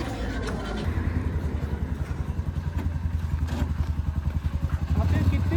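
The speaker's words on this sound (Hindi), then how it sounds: "अभी हम जा रहे हैं ATV राइड के लिए।" An ATV engine idles at the start of an adventure ride in Nubra Valley, Ladakh, throbbing in a fast, even rhythm close by with faint voices around.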